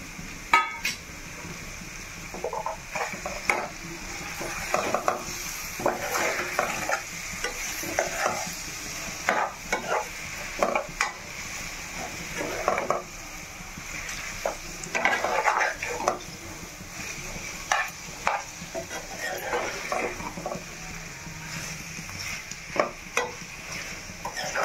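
Boiled eggs frying in an egg curry pan while a spoon stirs them, with steady sizzling under repeated scraping and clinking strokes against the pan, close and continuous with no talk.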